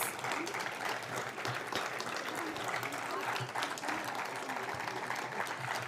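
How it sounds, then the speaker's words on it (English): Audience applause after a stage production blending drama, classical Indian dance and music, a dense steady clapping from a large crowd that continues throughout, with some voices mixed in. "keep clapping"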